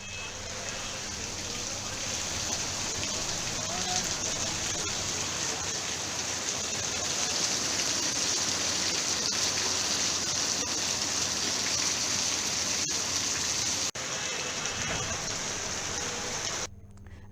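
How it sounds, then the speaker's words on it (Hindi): Heavy rain pouring down steadily in the Narsinghgarh area of Rajgarh district, a dense continuous hiss of drops on surfaces, loud and unbroken from start to finish with no voices. "राजगढ़ जिले सहित नरसिंहगढ़ क्षेत्र के अन्य गांवों में झमाझम बारिश जारी है।"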